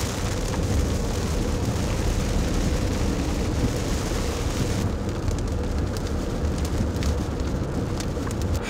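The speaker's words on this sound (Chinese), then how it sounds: "蓝天白云下大暴雨" A heavy rainstorm falls under a clear sky along Route 66 in the United States, a dense, steady roar of rain that continues loudly and unbroken throughout, with no voices.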